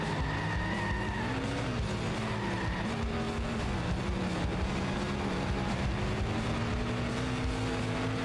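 Cars race and skid in The Simpsons Hit & Run on PS2, with a continuous, shifting engine whine and drawn-out tire squeals, loud and unbroken, with no voices.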